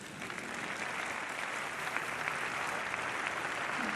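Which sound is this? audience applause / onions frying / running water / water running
audience applause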